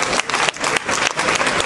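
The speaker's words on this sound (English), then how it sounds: "I get the clapping and not you." Sustained clapping from a press conference audience, dense and steady with brief dips, filling the whole stretch.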